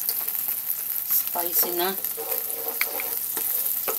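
Seafood sizzles and fries in a pan as ketchup is added, a steady crackling hiss with stirring scrapes and a voice speaking briefly over it.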